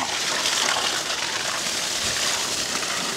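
Water pumped out to irrigate plants such as chilli at a home garden in Jaffna, a continuous broadband rushing and splashing gush that stays steady and fairly close, with no one talking.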